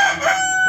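A rooster at the Osh Bazaar poultry market in Bishkek lets out a single short crow, a bright tonal burst lasting under a second with no talk over it.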